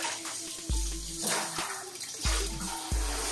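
Water splashing and sloshing in a tub as hats are rinsed, with several brief surges of splashing and gurgling at an uneven pace, close and moderately quiet, without talk.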